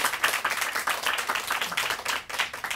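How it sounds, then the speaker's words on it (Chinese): An audience at a live talk claps together, a close, lively patter of many hands that keeps up in uneven pulses for a few seconds. "然后大家给九九一个掌声好不好？"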